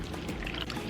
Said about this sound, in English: Now add your milk.